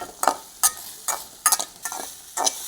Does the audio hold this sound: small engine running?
no